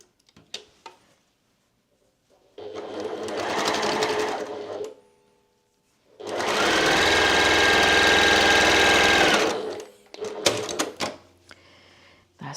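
A sewing machine stitches patchwork pieces together in two loud bursts, one of about two seconds and a longer one of about three seconds, each followed by small clicks and handling noises up close.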